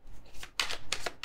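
Tarot cards are shuffled and picked by hand, producing a few quick papery riffles and flicks close up in a quiet room.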